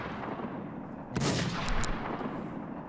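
Gunfire in the survival shooter WarZ: a loud, sharp burst of shots lands about midway, followed by two quicker cracks, over a steady noisy game background with no talk.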